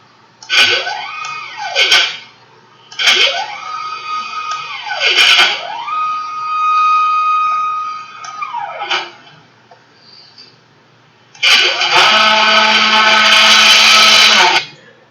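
A CNC plasma table's gantry drives back and forth in loud, whining sweeps that rise and fall in pitch, pausing between passes, then ends in a sustained harsh buzzing run with a steady tone underneath.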